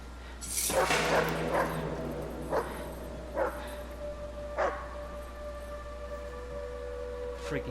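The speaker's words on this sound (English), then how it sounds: "Freaking dog." A dog barks several times in sharp, separate bursts over a faint steady background hum in the Hidden Agenda video game, with one or two barks near the start and more spaced out later.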